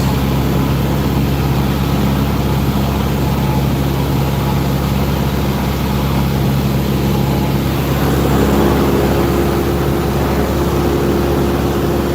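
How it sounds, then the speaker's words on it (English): Dirt bikes ride across a nearby track, their engines making a steady, continuous motor drone that carries at constant loudness with a slight swell near the end, heard from a distance outdoors. "Dirt bikes going across."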